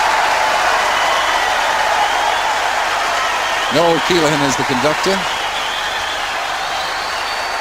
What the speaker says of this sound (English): It'll be thunderous applause for this.